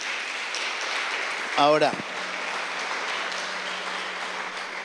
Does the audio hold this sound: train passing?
no